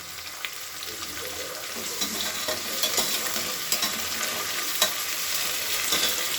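Mint and curry leaves fry in oil in a pan with a continuous bright sizzle and occasional stirring scrapes, steady and close, without any voices.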